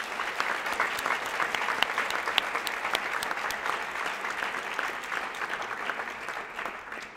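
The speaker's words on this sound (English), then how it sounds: "Please a round of applause for the Cuscos." Audience at a high school evening talk applauding the Cusco family, a sustained, even wash of many hands clapping at a steady level with no voices over it.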